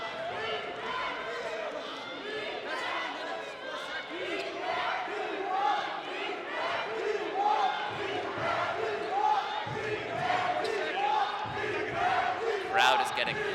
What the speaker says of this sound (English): Crowd is getting hyped up as they can see their Mountaineers possibly taking this game.